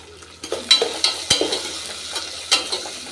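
Onion frying in mixed cooking oil and coconut oil with mustard seeds, urad dal, asafoetida, peanuts and cumin for jowar upma, heard as a soft close sizzle broken by several sharp stirring clinks and scrapes.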